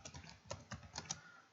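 Keys tapped on a computer keyboard during data entry for a Python Tkinter student registration program, a quick run of soft clicks with a few sharper strokes, close and quiet, no voices.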